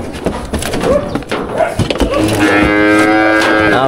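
A 3B breed cow among cattle being transported in Phú Yên lets out a long, loud, drawn-out moo through the second half, following a stretch of noisy, clattering farm background.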